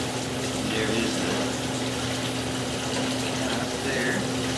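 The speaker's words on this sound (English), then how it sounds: "Go ahead and leave the water running so we can kind of see how the lines function in here." Running water flows through a house's old cast iron drain line, a steady rushing hiss with a low hum underneath that holds even throughout.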